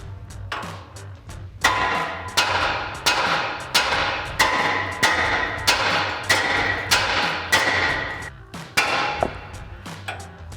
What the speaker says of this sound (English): we're just gonna strike this side right here with a hammer to release this ball joint